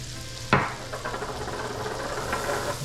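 Garlic dropped into a pan of cooked onions for German potato salad, with a sharp clatter, then a steady, close sizzle of frying and light stirring.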